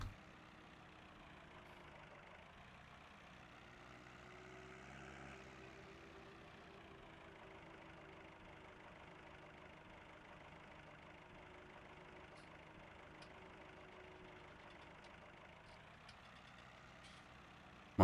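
A tractor engine idles in Farming Simulator 19, a low steady drone that stays even and fairly faint for the whole stretch with a slight swell partway through and light clicks near the end.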